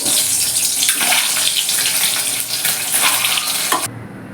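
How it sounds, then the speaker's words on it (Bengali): Loud, continuous sizzling and spattering of eggs frying in hot mustard oil, close up, cutting off abruptly near the end. "প্রথমে একটু ডিমগুলোকে ভেজে নেব"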